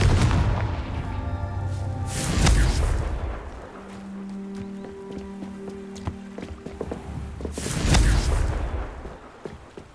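Confringo blasting spell explosions in Hogwarts Legacy, two heavy booming blasts a few seconds apart, each swelling and fading, with quieter crackling and tonal game sounds in between.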